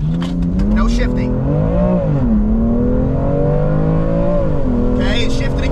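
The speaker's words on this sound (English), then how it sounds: "We're gonna try to get a launch. I'm not gonna shift at all, and I'm gonna see if it works." BMW M2 Competition launching in a drag race with no shifting, engine roaring loudly and steadily as its pitch climbs and dips, close and continuous, with brief bursts of voices at the start and end.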